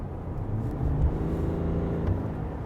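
A 2020 GMC Sierra Elevation pickup with a Duramax diesel engine accelerating hard, a steady loud droning rumble that holds its pitch up close, without talk.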